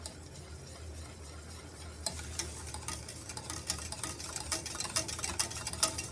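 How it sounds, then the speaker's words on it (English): A spoon stirring bottled lemon juice into lemon icebox pie filling made with fresh eggs, with soft scraping and clicking that grows busier and more rhythmic partway through. Nearby and steady, with no talking. "Now I'm going to just stir it in here."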